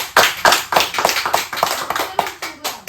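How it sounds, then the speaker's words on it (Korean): A small group claps to welcome a newcomer to a Bible class, a short burst of brisk, uneven hand claps close by that taper off after a few seconds. "그래서 새로운 친구를 위해서 박수 한번 줍시다."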